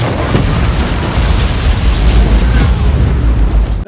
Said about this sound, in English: an RPG blows up an entire cache of explosives